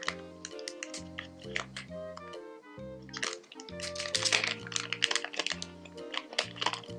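Crinkly rustling and crackling of a plastic packaging bag being opened to reach a stylus pen with a disc tip, a few sharp bursts over steady background music.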